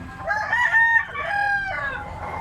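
Close and clear, a Lemon 84 bloodline gamefowl bullstag gives a single strong crow that rises and trails off, over quiet background noise.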